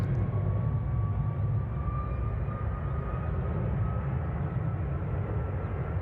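A plane taking off from runway 34 left at Sydney Airport, a continuous loud jet roar with a faint steady whine, holding level throughout with no talk.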